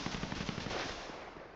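Rapid gunfire in the video game GTA 5, a dense, loud burst of repeated shots that runs unbroken from start to finish with no pauses and no voices.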